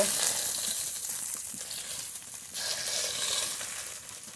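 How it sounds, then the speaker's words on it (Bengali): Tilapia fish fry in hot oil in a home kitchen, giving a continuous bright crackling sizzle that swells and eases, with no voices over it. "এই মাছগুলো ভাজা হয়ে গেছে নামিয়ে নেব"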